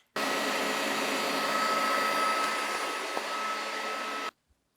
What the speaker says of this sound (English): Now we'll finish whipping this to a stiff peak.